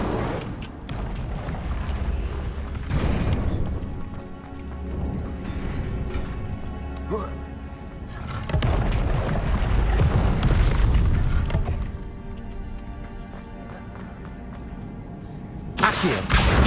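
Repeated booming fire-spell blasts in the Hogwarts Legacy video game, several heavy bursts and rumbling impacts spread across the stretch amid game sound effects.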